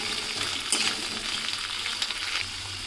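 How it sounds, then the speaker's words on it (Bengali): Potato, carrot and beans frying in a pan, a steady close sizzle with faint stirring scrapes and no talking. "এবার একটু সবজিগুলো ভেজে নেব।"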